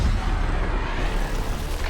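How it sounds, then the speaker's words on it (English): A loud, sustained rumbling explosion from an anime scene, a dense roaring blast filling the whole moment with no talking. "the sky begins to shine and an explosion happens"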